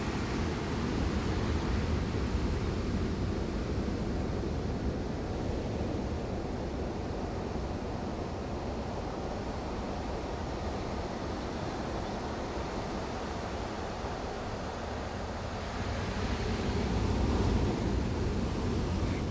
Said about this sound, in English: Great sounds of the waves.